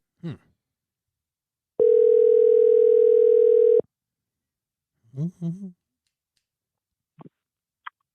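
An outgoing telephone call placed from inside a house, a single steady ringback tone lasting about two seconds, loud and close, followed by brief low murmurs and a couple of faint clicks.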